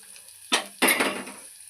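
Curry leaves tempering for lemon rice hit hot oil in a pan with two sharp bursts of sizzle and clatter, the second louder and trailing off slowly.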